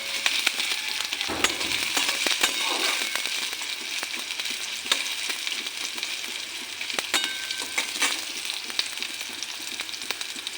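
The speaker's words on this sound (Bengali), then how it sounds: "পেঁয়াজ আর গোটা জিরা দিয়ে দেবো পেঁয়াজটা একটু হালকা করে ভাজা করে নেই" Sliced onion and whole cumin seeds sizzle steadily in hot oil in a pan, a continuous close frying crackle with brief louder bursts, no voices.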